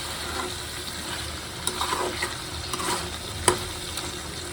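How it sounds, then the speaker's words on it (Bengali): Meat and potatoes fry together in oil in a pot, giving a steady low sizzle and hiss. Occasional light clinks of stirring rise above the even frying noise. "মাংসটা কষানি দিয়ে দিলাম"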